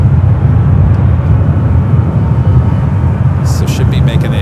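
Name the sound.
airplane arriving at San Francisco airport from LAX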